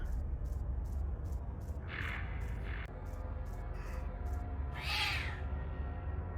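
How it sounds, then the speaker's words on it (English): A cat-like scream from the horror video game Deep Fog, a few strained wailing cries rising over a low eerie ambient drone, with a rhythmic tapping pattern running throughout. "It sounds like a cat."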